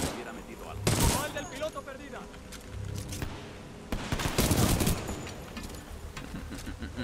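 Gunfire in the video game Titanfall 2: bursts of shots and rapid fusillades with sharp cracks, fairly loud and busy, mixed with game sounds and someone talking over it.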